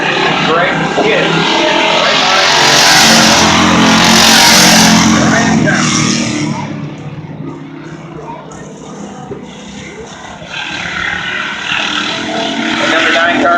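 A race car, the number 9 rookie entry, runs a lap at Birch Run Speedway. Its engine roars loud and steady, then drops off as it moves away and builds again, with an announcer talking over the track noise.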